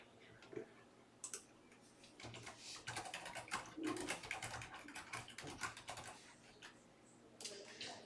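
Keystrokes tapped on a computer keyboard while entering a list for a basketball card giveaway, a quiet run of irregular clicks spread across several seconds, with faint background noise and no clear talk.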